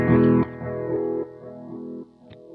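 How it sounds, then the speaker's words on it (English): Electric guitar played through a Line 6 Helix mod chorus echo delay, a few sustained chords blooming into a washy, wavering ambient wash of repeats that fades between strums. "washy sort of ambient sounding delay."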